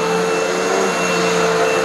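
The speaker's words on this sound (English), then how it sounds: "Why do you need to vacuum front to back? Just go side to side." A Shark vacuum cleaner runs steadily and loudly close by, a continuous motor whine with a strong hum and an even, unbroken roar throughout, with no voices.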